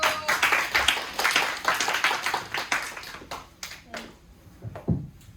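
Audience members at a school project presentation clap in a lively patter of hand claps that thins out and fades toward the end, with a few scattered claps trailing off.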